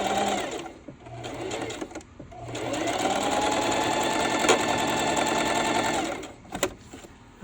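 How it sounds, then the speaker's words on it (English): A sewing machine stitches along the fabric of a Dollar Tree bunny bag, running in a steady, close whirring burst for several seconds between short starts and stops. "And I'm just sewing them down."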